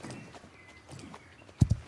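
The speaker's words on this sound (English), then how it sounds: "Is that our horse running?" Hooves of a horse in a riding game clop along in a light, uneven trot, ending in two louder, close thuds.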